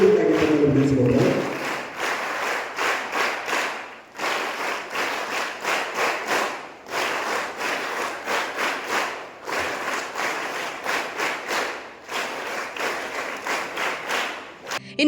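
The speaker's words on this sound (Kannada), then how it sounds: "ತಾವೆಲ್ಲರೂ ಜೋರಾದ ಚಪ್ಪಾಳೆ ತಟ್ಟುವುದರ ಮುಖೇನ ಈ ಒಂದು ಉದ್ಘಾಟನೆಯಲ್ಲಿ ಪಾಲ್ಗೊಳ್ಳಬೇಕಾಗಿ ವಿನಂತಿಸಿಕೊಳ್ಳುತ್ತಾರೆ" Audience clapping loudly at an inauguration ceremony for a Birsa Munda birth anniversary event, dense sustained applause in several long waves with brief dips, close and full, following a few seconds of voice at the start.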